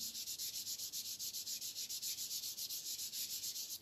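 Oil pastel crayon is smudged across paper in a quiet, close, steady rhythmic rubbing, a soft scratchy sweep repeating about every tenth of a second with no voices.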